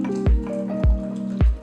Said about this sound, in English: And I lightly squeezed out each tea bag.